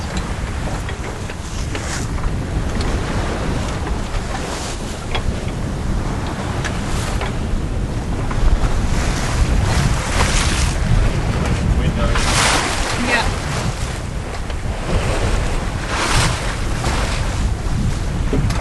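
A sailboat reefed with one reef in the main and steered by a wind vane, sailing close reach at 6.5 to 7 knots, with steady loud rushing water, wave wash and wind buffeting the microphone throughout.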